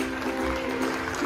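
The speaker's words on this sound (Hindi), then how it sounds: "इंग्लिश मीडियम हाई स्कूल के लिए जोरदार तालियां हो जाए" An audience applauds for an English medium high school at a Reserve Bank of India state-level quiz competition program: dense, steady clapping throughout, with a faint electrical hum underneath.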